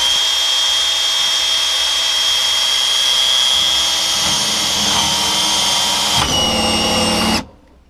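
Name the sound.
power drill drilling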